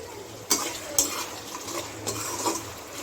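Small tomatoes being stirred into onions and green chillies frying in a pan for uggani, with a few sharp spoon scrapes against the pan over a quiet, steady sizzle.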